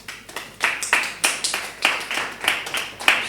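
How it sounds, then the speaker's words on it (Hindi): A class claps for a student during a lesson, with around a dozen sharp, evenly spaced claps that sound like a small group applauding nearby in a quiet room. "तो इनके लिए ताली बजाएं।"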